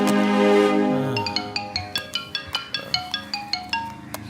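A phone ringtone plays as a rhythmic run of bright, repeated chime notes, loud and close, following a short sustained tonal intro.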